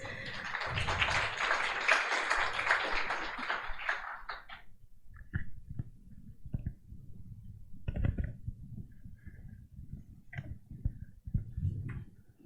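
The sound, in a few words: applause after agreement signing at conference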